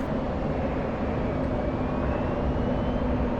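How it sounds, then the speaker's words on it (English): An F-16 Viper jet engine in the DCS flight simulator winds down, a steady airy roar with a faint tone slowly sliding, heard alone without talk. "You should have heard the engine spool down."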